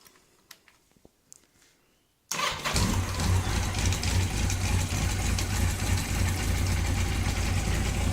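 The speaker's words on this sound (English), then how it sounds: "Then you're ready to fire up the engine" A Yamaha XJ 900 F motorcycle engine cranks and catches after a couple of seconds of quiet clicks, then settles into a loud, steady, close idle that continues unbroken to the end.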